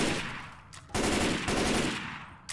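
Assault rifle fire in Left 4 Dead 2, a loud, rapid automatic burst that pauses briefly and then continues close up for the rest of the moment.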